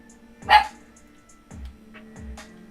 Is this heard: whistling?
no